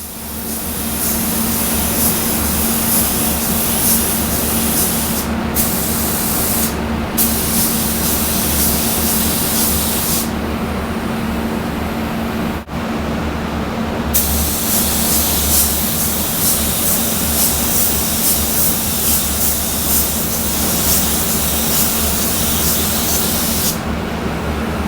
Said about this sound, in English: we're just going to paint this edge on a normal coat like you would paint anything